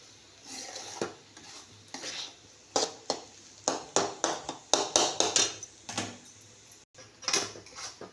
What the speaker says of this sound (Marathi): सगळं व्यवस्थित मिक्स करून घेऊया आपण एकजीव त्याच्यात